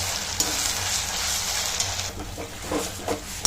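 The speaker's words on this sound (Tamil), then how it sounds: "இஞ்சி பூண்டு பேஸ்ட்டு எண்ணெயிலேயே நல்லா வந்து வதக்கிட்டே இருக்கணும்." Ginger garlic paste fries in hot oil for chicken thokku, producing a dense, fairly loud sizzling hiss close up, with a few light stirring scrapes near the end.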